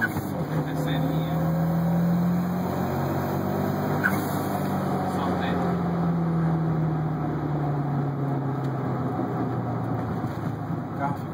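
A Volkswagen Parati with a 1.1 16v turbo engine pulls through the gears, its loud, steady engine drone rising and falling in pitch close by, with a voice talking over it.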